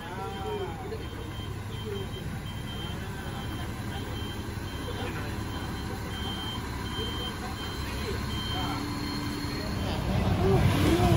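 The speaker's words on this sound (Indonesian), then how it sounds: "ini bisnya ini bisnya baru datang" A coach bus pulls up at a stop on the Hat Yai to Kuala Lumpur route, its reversing beeps sounding over a low engine rumble and outdoor street noise, with the engine growing louder toward the end.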